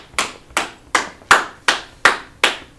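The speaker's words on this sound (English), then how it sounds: "Clap it up for the brothers." Seven sharp, evenly spaced claps ring out in a steady rhythm, loud and close in a room at a religious teaching gathering, with no talking between them.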